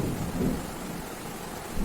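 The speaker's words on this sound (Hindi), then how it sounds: "अभी गरज रहे हैं ऐसे बादल" Rolling thunder from rain clouds rumbles low and steady beneath falling rain, a brief swell of deeper growl rising early on, with no voices present.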